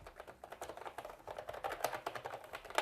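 Steady, fast typing on a KiiP Y87 steampunk-style gaming keyboard with bouncy, non-clicky keys, giving a dense run of soft, close clacks with no talking.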